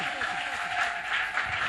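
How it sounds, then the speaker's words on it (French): Brief burst of congregational clapping at a church service, dense and steady throughout with a faint voice under it. "Si tu es d'accord, applaudis très Beta fort maboko,"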